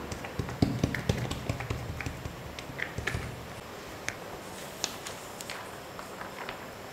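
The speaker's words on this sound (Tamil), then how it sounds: "இந்த மாதிரி சுற்றி தட்டிக்கிட்டே வந்தோம்னா" A hand repeatedly pats oiled poli dough into a round, giving a string of soft, quick, uneven taps close by with no talk.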